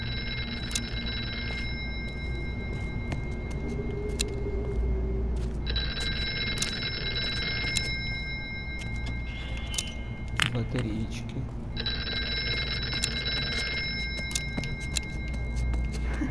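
Telephone ringing in a dark horror video game, in repeated bursts of a bright electronic ring separated by pauses, sounding over a low rumbling ambience while someone talks throughout.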